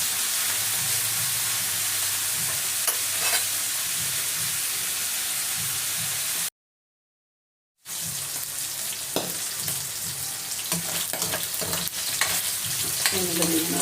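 Pork fat sizzles and spits steadily in a hot pan as it renders into oil for dinuguan, with occasional stirring scrapes; the frying runs loud and close, briefly cut by a silent gap before resuming.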